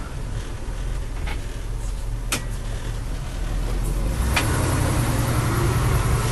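A 1979 International Scout II accelerating on a road, heard from inside as a steady low engine drone and road rumble that builds slightly louder toward the end.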